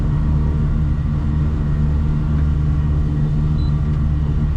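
Yamaha T9.9 outboard motor running steadily with a low, droning engine rumble, close and loud throughout with no clear rise in pitch.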